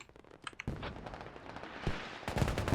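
A mortar barrage impacting an objective area in a Fallujah combat video game, several sharp distant blasts and crackles scattered across a few seconds, growing denser and louder at the end.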